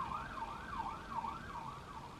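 An ambulance siren wails with a steady rising and falling tone, fairly faint and somewhat distant, with no talking.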